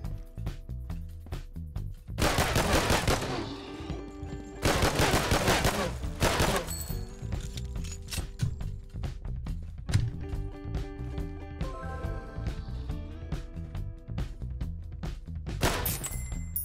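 Dense bursts of automatic gunfire from the video game Regain Earth: First Strike, a mech boss fight, with heavy fusillades around the start and middle, scattered shots and game tones between, and one more loud burst near the end.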